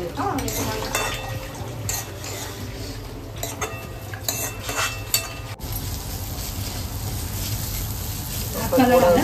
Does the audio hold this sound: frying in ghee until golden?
yes